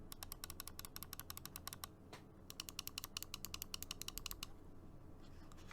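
Crisp, rapid clicks from the left and right buttons of a Razer Viper Mini gaming mouse, two close bursts of many sharp taps separated by a short pause, recorded up close in a quiet room.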